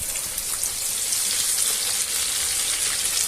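Breaded chicken fillets with Provencal herbs fry in a pan of oil, giving a steady, close, crackling sizzle throughout with no voices.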